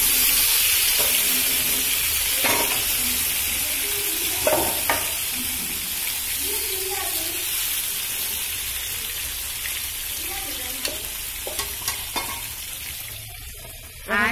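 Chicken pieces hit hot oil in a frying pan, setting off a steady, close sizzling hiss with scraping stir strokes throughout and a few sharp clatters near the end.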